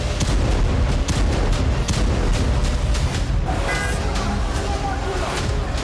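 Repeated booms and blasts from the Israel–Hezbollah war crack through a dense, noisy background, several sharp bursts in a row with rumbling in between, loud and chaotic.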